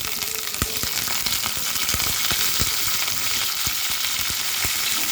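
Onion, curry leaves and tomato dropped into a pan of browned garlic for a tamarind curry crackle and sizzle close up, with repeated stirring knocks against the pan.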